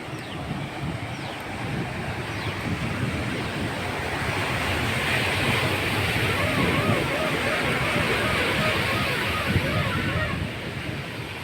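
Water rushing through an open dam gate in Odisha, a loud continuous roar of churning flow with wind buffeting the microphone and no voices over it.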